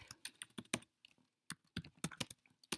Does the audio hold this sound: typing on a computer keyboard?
yes